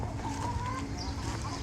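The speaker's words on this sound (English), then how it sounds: "The chickens will get right underneath your feet" Several chickens cluck and murmur close by in a low, busy chorus, with a brief higher call, in a hot, shaded chicken enclosure.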